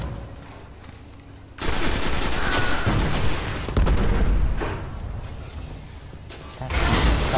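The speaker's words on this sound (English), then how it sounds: "That is using a rocket launcher." Heavy booming blasts and rapid gunfire from a rocket launcher in the Destiny multiplayer shooter, loud and dense, coming in bursts with a short quieter gap near the start.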